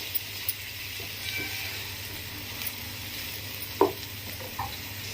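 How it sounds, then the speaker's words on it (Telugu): Chopped tomatoes fry in a pan with a steady soft sizzle. A few sharp clinks of a spoon stirring against the pan cut through it. "టమాటాలు వేసుకుని టమాటా అనేది సాఫ్ట్ అయ్యేంత వరకు కూడా ఫ్రై చేసుకుందాము"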